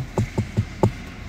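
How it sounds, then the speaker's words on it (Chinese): Four dull, muffled knocks on a solid surface, evenly spaced and close, with quiet pauses between them. "同样的撞击，下面这里是闷沉的声音"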